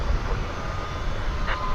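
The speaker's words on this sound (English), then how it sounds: "it's a 737-800 coming in from Silao in Mexico" An American Airlines Boeing 737-800 arriving at DFW Airport from Silao, Mexico, heard as a broad, steady low jet rumble at moderate distance, with no voices over it.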